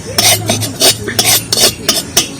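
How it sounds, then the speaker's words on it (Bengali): A metal spatula crushes fried onion peels in a wok with a series of sharp, close scraping and grinding strokes. The strokes come in an uneven rhythm of roughly eight bursts. "কড়ার মধ্যে খুন্তি দিয়ে এইভাবে গুঁড়ো গুঁড়ো করে নিয়েছি"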